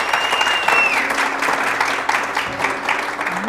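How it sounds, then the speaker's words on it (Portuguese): An audience at a live talk-show interview breaks into steady, dense applause that fills the whole stretch, loud and close, with a few faint voices and whistles mixed in. "Uma salva de palmas para ele."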